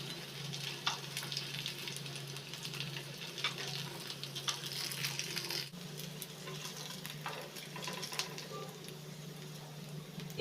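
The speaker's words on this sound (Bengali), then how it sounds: "এই টিক্কিগুলো উল্টে পাল্টে লাচি করে ভেজে নিয়েছি" Chira and onion tikkis shallow-fry in oil, a steady, even crackling sizzle that carries on alone with small pops and faint clinks throughout.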